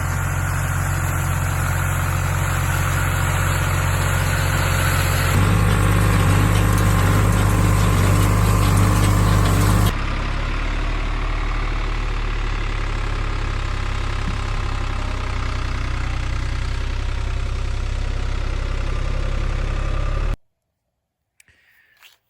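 A New Holland TN series tractor engine idles loudly and steadily with a deep, chugging rumble, shifting tone partway through before cutting off near the end.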